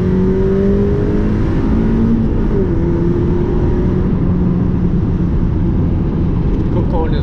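A Mazda MX5 engine drives along a twisty road, a loud continuous hum from inside the cabin with pitch sweeps as revs rise and fall through downshifts.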